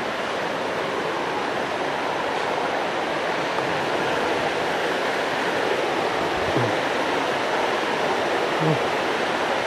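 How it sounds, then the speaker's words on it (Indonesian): A large river runs over many rocks with a constant, dense rushing roar, heard up close. A few faint thuds sound in the background. "Di sungai yang agak besar nih."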